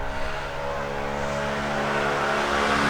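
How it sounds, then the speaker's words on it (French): A small scooter engine hums close by, its drone steady and rising slightly as it goes past. "C'est peut-être bien un scooter d'ailleurs"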